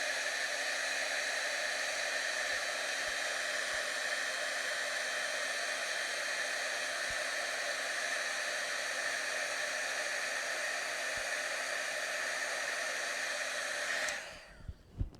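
Embossing heat tool blowing hot air to dry ink on paper, a loud, steady whooshing hum held for about fourteen seconds before switching off abruptly near the end.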